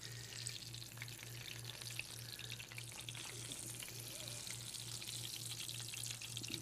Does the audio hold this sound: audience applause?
no